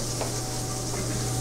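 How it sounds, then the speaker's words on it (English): Mushrooms and sliced shallots sauté in a pan that was used to sear meat, giving a steady close sizzle with faint stirring scrapes throughout. "we're going to add some mushrooms and some sliced shallots to that, and we're going to continue to saute it"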